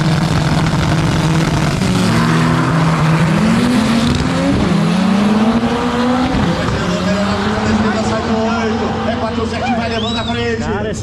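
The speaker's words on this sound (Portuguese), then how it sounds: "Mais um pega eliminatório." Cars racing in a no-prep drag race elimination round at Tarumã, with a loud, sustained engine roar that rises in pitch through the gears and carries tire noise. A commentator talks over it throughout.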